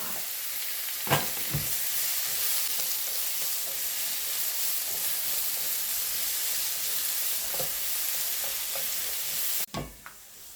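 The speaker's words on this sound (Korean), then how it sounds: "버섯을 거의 다 익었을 때쯤은 양파를 때려 넣습니다" Mushrooms and onions stir-fry in oil for Korean japchae, a steady loud sizzle and hiss running throughout, broken by a few sharp spatula scrapes and clacks near the start and end.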